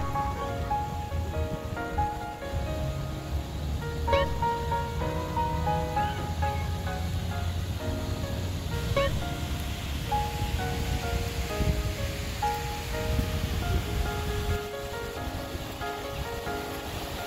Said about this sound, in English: this fountain looks pretty interesting